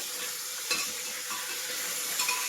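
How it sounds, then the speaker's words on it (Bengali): Onions sizzle in a hot pan as pieces of papaya and potato go in and get stirred, a steady close crackle with a few scraping stir strokes and no voices. "তো এই যে পেঁয়াজটা একটু ভাজা ভাজা করে নিয়েছি এবার দিয়ে দেবো এই সবজিটা"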